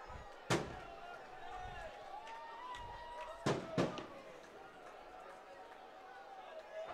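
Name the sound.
fireworks at ballpark for Riverwalk Festival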